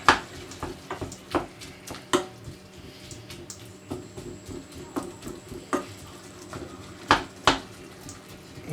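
Soft scraping and clinking of a utensil stirring browning mince around a pan, with irregular light knocks and a faint sizzle underneath.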